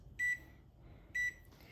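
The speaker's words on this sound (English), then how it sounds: "And I'm gonna set my timer for 40 minutes." A kitchen timer being set for a bread-machine olive bread gives two short, bright electronic beeps about a second apart, fairly quiet against a soft room hum.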